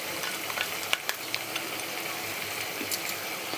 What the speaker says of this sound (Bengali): টক দই আর হলুদ আর লঙ্কা গুঁড়ো দিয়ে ফেটিয়ে নেওয়ার পর এবার আমি একে এক আস্তে আস্তে এটা কড়াতে দিয়ে দিচ্ছি